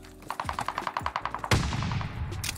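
Gunfire in the video game Call of Duty: Vanguard: a quick string of about a dozen light shots, then one loud, heavy shot with a long echoing tail.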